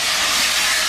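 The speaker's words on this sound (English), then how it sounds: "you can hear how hot that oil was" Chicken frying in very hot oil in a pan, a loud, dense, continuous sizzle with a bright hiss throughout, close and steady.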